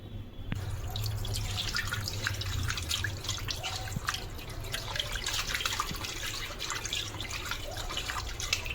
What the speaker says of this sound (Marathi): आता मस्तपैकी धुवून घेऊया।